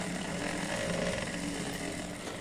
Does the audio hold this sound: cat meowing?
no